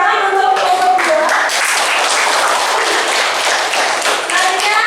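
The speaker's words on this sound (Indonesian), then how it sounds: "tepuk tangan untuk kelompok 2" Students in a classroom clap for a group that has just presented, loud, dense and fast clapping close by with a few voices mixed in.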